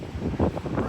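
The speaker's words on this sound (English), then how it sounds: "you can just hear the wind just hitting that tower" Gusty wind buffets a fire lookout tower on a mountaintop, coming as low, rough rumbling bursts against the microphone, fairly close and uneven in strength.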